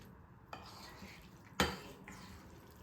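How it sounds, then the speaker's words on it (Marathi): A spoon stirring millet flakes gopalkala with its tempering in a pan, giving soft scraping strokes and one sharp clink against the metal, heard alone and fairly quiet. "एकदा फोडणी सगळीकडे आपण मिक्स करून घेणार आहे"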